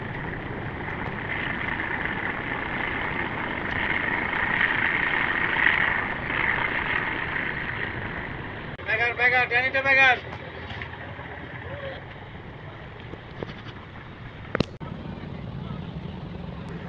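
Engine of a passenger launch at a river ghat in Bangladesh, a steady droning hum running throughout at moderate level, with voices and a brief horn-like tone partway through.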